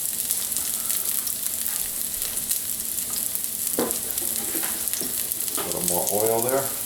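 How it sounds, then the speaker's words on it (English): A constant, crackling sizzle of mushrooms frying in a pan, with occasional stirring scrapes and a brief voice near the end. "Oh yeah, I like the sizzle."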